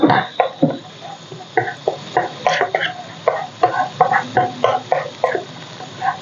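A pot of coconut milk and green curry paste simmers while a utensil stirs and scrapes it in a quick, irregular run of clinks and soft sizzling bursts, close and fairly loud.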